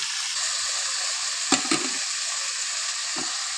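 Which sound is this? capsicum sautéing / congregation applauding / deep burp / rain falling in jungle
capsicum sautéing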